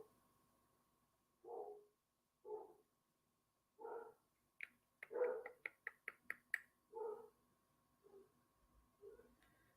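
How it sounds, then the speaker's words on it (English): Several dogs bark in a quiet indoor setting, reacting to a package delivery: a handful of separate barks, then a quick run of sharp yaps, fading to a few softer barks, moderately near. "so my dogs are barking"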